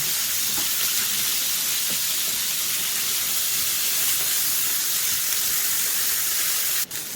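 A piece of chicken shallow-frying in butter in a hot pan on medium heat, giving a steady, even, close sizzling hiss throughout with no talk.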